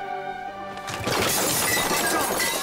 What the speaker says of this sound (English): When she fell, she smashed all the glasses.